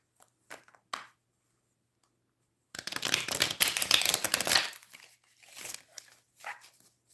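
A deck of tarot cards gets shuffled up close, a few short riffles and then a long dense crackling shuffle, more bursts after it, with quiet stretches between and no voices.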